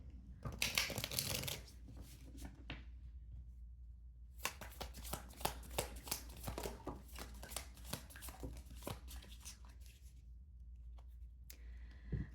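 Tarot and oracle cards shuffled by hand, a dense papery riffling burst at the start, then a long run of quick flicking and slapping card sounds, close and fairly quiet, with no talk.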